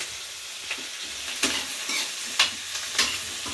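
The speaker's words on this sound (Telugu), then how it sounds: "టమాటా బంగాళదుంప మాడిపోతున్నాయి" Tomato and potato frying and starting to scorch in a pan, a close sizzle with a few loud scraping strokes of a spatula stirring at uneven intervals.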